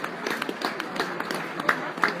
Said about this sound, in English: Applause for Alassani as he comes off